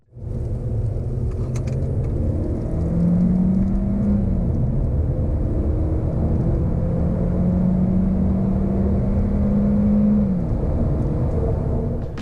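A 2019 Audi A3 35 TFSI hatchback with a dual-clutch transmission accelerates hard from 30 to 70, its engine droning loud and steady from inside the cabin with rising whine as the revs climb, then shifting.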